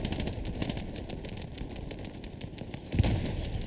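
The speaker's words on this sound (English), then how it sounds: "Ooh, nasty artillery shot." Gunfire and explosive battle noise from Hell Let Loose, a World War II shooter, dense and continuous with a heavier artillery-like thump near the end rising over the din.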